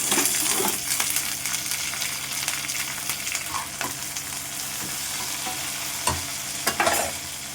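Onion and a few dried red chillies fry in a pan with a steady, close sizzle, broken by occasional sharp scrapes and clinks of a stirring spoon against the metal.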